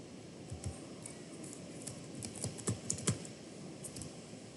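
Keys on a computer keyboard are typed in a short irregular burst, soft close clicks and taps growing denser toward the middle over a quiet hiss, with no talking.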